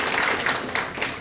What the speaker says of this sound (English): Applaud the educators here.